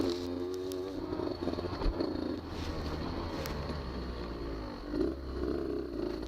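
A Beta 200 RR dirt bike is ridden on the Durhamtown trail, its engine droning steadily with small swells in revs, close and unbroken.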